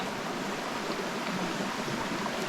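Water running in a clean mountain creek below a waterfall, a steady broadband rush with no breaks, moderately loud and uniform, no voices.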